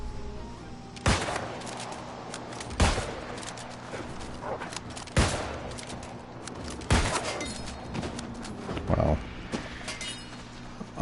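Gunshots ring out in New World: Aeternum: five or six loud single shots spaced a second or two apart, each a sharp crack that decays quickly, over a low steady in-game hum.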